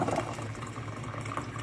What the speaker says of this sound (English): I'm just going to pour the water